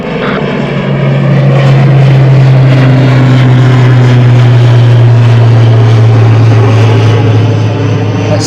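An EasyJet Airbus airliner taking off at Gatwick Airport, a loud, sustained jet engine roar with a steady low drone and a slowly shifting tone, heard alone without talk.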